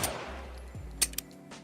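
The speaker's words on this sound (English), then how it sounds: "This gunshot from The Last of Us 2." A single gunshot effect from the video game The Last of Us 2, a sharp crack followed by a short, low echoing tail, faint and heard alone.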